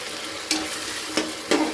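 Peanuts sizzle in hot oil in a pan for masala khichdi, with a steady close crackle and three sharp scraping stirs spaced through it, no talking.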